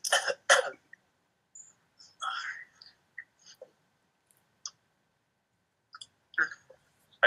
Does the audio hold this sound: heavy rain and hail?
no